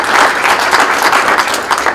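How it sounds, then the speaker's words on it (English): A university audience at an energy panel discussion applauds the panelists and moderator with steady, dense clapping that stays even and fairly close throughout, with no talk over it. "please give a round of applause for our panelists and moderator."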